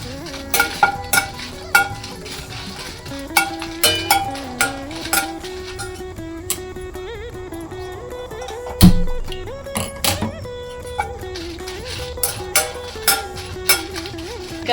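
Red chillies roasting in a pan for a methi seed gravy, with a steady low sizzle under repeated sharp spatula scrapes and taps against the metal, evenly spaced through the whole stretch and one heavier knock midway; no talking.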